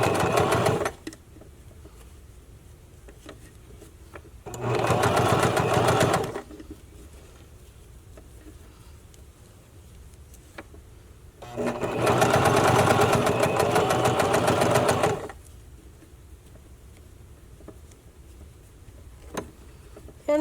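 A sewing machine stitching channeling onto a bra runs in two loud, steady mechanical bursts of several seconds each, separated by quieter stretches of low room hum.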